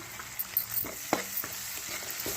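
Sliced onions and fresh curry leaves fry in oil with a close, busy sizzle broken by scattered crackles and pops and a few light stirring scrapes.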